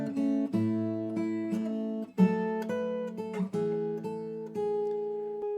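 Clean fingerstyle acoustic guitar playing the ornamented intro riff of a song, a repeating pattern of plucked arpeggiated notes ringing together, close and clear with no voice.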